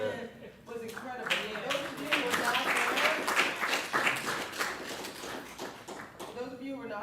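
A crowd applauds continuously at a live event at NAAM, a dense wash of clapping that swells and holds before tapering off near the end.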